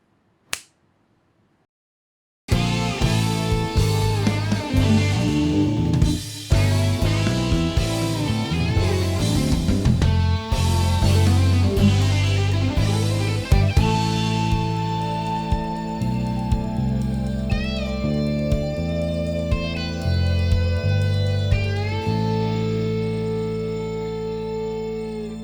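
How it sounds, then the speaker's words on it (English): A simple chord progression with chromatic harmony rings out on what sounds like piano or keys after a snap and short silence, chords changing at a steady pace before settling into sustained, fading tones. "start out with a chord progression, which is fairly simple"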